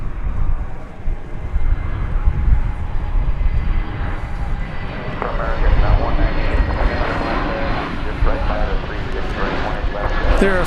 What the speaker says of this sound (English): American Flight 1691 coming in from Phoenix, an Airbus A321 Neo. Blowing across our nose in a moment.